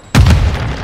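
A grenade detonates in Call of Duty Modern Warfare 2 beta Domination play: one sudden, loud, close boom that hits hard and then rolls on as a dense rumble, with no voices.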